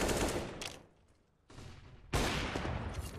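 Gunfire in Counter-Strike on the de_train map during a match between NIP and FaZe, with loud dense bursts of shots, a short quieter lull, then another heavy volley.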